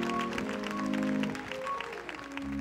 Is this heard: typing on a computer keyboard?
no